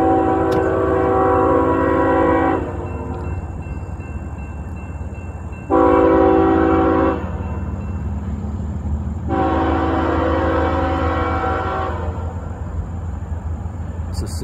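Westbound CSX freight train L425 with modern locomotives passing at Lockland, Ohio, sounding three loud horn blasts over a steady low rumble of the train rolling by close.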